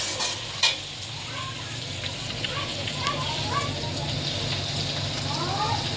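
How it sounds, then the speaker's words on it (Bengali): Sliced onion and green chillies frying in hot oil in a pan for chow mein, giving a steady close sizzle with a few stirring scrapes. A voice talks faintly over it. "দেখো পেঁয়াজ আর কাঁচা লঙ্কা ছেড়ে দিয়েছি।"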